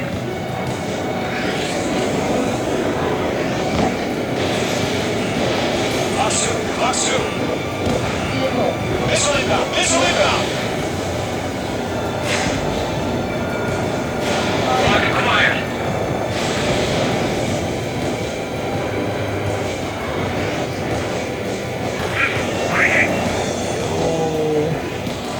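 Enemy fighter aircraft in the combat flight game Ace Combat 7: Skies Unknown, a dense, steady jet roar with whooshing swells, continuous and loud throughout, with occasional talk.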